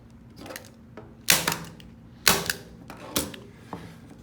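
Staple gun fires sharp, loud snaps as canvas is fastened onto wooden stretcher bars, three strong shots spaced about a second apart amid softer clicks and handling noise.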